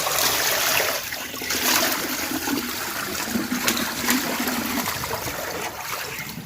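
Running water gushes and splashes over freshly harvested lemongrass as it is rinsed, a steady close wash with shifting splatter and trickle, without any speech.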